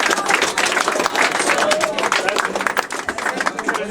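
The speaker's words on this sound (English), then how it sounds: "Give her a round of applause, y'all." Group applause at a Philmont 2007 gathering: clapping from several people, moderately close and steady throughout, with some whoops and voices in the crowd mixed in.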